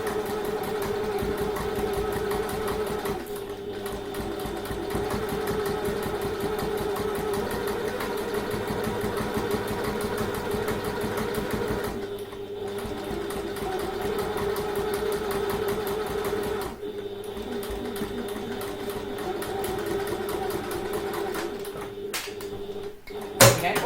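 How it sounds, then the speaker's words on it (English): A sewing machine runs almost continuously, top stitching across a handbag, its steady mechanical hum and rapid needle chatter broken by a few brief pauses and a small clunk at the end. "we're going to top stitch along the entire width of that again"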